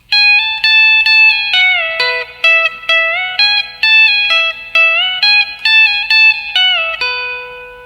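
A country guitar solo line played with a B-bender, clean bright notes with bending pitch slides in short phrases separated by brief gaps, loud and close.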